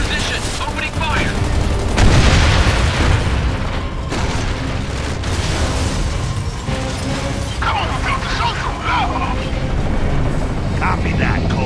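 Minotaur unit in Gears of War 2 opening fire: continuous heavy gunfire and booming blasts layered over battle noise and game score, with voices shouting over the din throughout.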